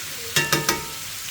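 Food stirred in a hot pan on medium heat for street tacos, three quick scraping strokes over a steady background sizzle, close and alone.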